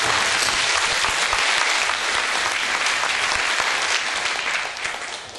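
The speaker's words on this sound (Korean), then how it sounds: "우리를 전도의 도구로 사용해 주신 하나님 앞에 모든 감사와 찬양과 영광을 박수로 올려드리겠습니다." Loud, dense applause fills a church hall at a mission report gathering, holding steady throughout before easing slightly at the end.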